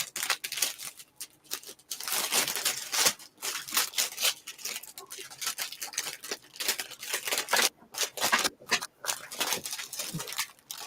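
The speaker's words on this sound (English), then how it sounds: "Oh, crinkly sound." Plastic packaging for a Saturday sale crinkles and rustles in close, irregular bursts separated by short pauses, with no talking.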